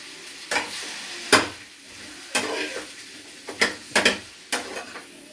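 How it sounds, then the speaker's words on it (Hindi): Tomatoes and onions sizzle in a little oil in a pan on a gas stove while a utensil scrapes and stirs in sharp, irregular strokes, close up. "टमाटर प्याज को फ्राई कर रहे हैं"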